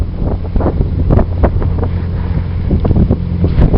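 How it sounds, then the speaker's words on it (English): A motor fishing vessel passing on a waterway, its low steady engine rumble carried along with heavy wind buffeting the microphone, continuous and fairly loud with no talk. "Motor fishing vessel."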